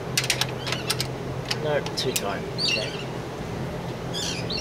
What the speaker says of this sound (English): Shut up, birds, you bloody stupid things.